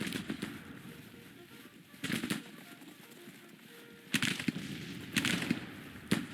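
Musket gunfire crackles in a Grand Tactician Civil War battle, with ragged volleys of distant rifle shots arriving in bursts, plus scattered single pops and faint background ambience.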